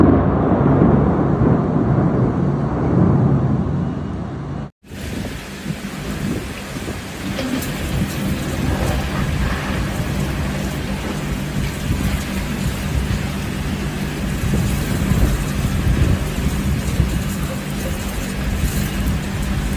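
A violent thunderstorm pours heavy rain, a loud dense hiss of drops on surfaces with deep thunder rumbling throughout, briefly cut off and then continuing strongly without speech.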